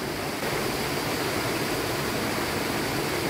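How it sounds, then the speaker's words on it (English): Dense, constant rushing of a flowing stream in an English forest fills the clip, loud and close, with no breaks or other sounds. "All the water is stream, you see."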